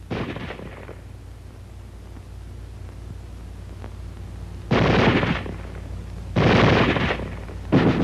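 Small arms firing automatically in an army training film: three long bursts of rapid gunfire, loud and close, separated by near silence with a faint hum.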